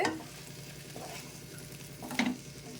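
A spoon scrapes and stirs drumstick fry mixed with roasted chickpea powder in a pan, with a low steady sizzle under a few louder scraping strokes, close by and without speech.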